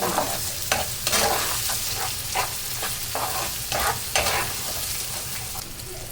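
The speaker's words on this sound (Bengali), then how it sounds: "তো ডিমের সাথে আমি একটু বাঁধাকপি দিয়ে দিয়েছি" Eggs and cabbage stir-frying in a pan sizzle steadily while a utensil scrapes and clatters in repeated strokes, close and fairly loud, with no talking.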